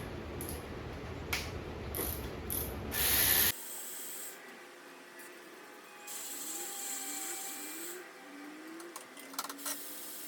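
A ratchet works loose the intake bolts on a 2006 Dodge Charger R/T engine, with a run of close, loud rattling clicks followed by quieter scattered clicks and metallic ticks.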